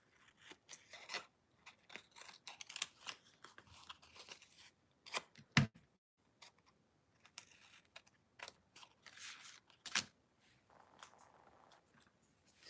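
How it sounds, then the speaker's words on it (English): Scissors trim adhesive-backed paper for a star quilt card, a series of quiet close snips and crisp cuts with brief crinkles in between, some wind faintly in the background. "and we'll trim those down."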